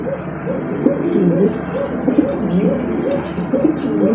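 Pigeons for sale coo in repeated soft, rolling phrases, close and continuous, with no talking.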